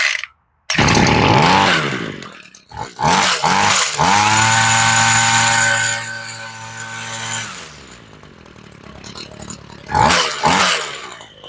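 Homelite chainsaw, freshly fitted with a replacement carburetor after sitting a while, fires and revs loudly at close range, its engine note surging and dropping unevenly through several bursts before settling into a rough idle.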